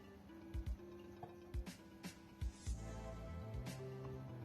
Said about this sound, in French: Je rajoute toujours un fond d'eau pour éviter que ce soit trop sec.